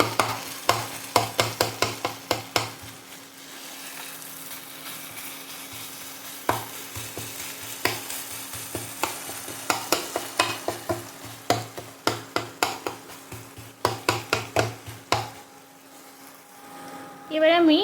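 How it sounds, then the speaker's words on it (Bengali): Cooked fish is broken up with a spatula in a frying pan on an induction hob, producing rhythmic scraping knocks over a soft sizzle, with a voice speaking at times. "মাছটা আমি ভেঙে দিচ্ছি।"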